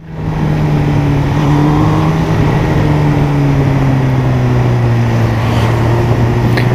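A Honda CB1000R motorcycle engine running hard on a ride, a loud, steady, close droning roar whose pitch sags slowly, with no voices over it.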